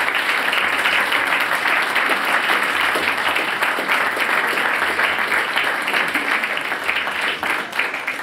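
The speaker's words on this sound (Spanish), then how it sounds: "Le damos un fuerte aplauso" Dense, steady applause from a large audience at a university Book Day event, sustained and loud for the whole stretch with no clear pauses.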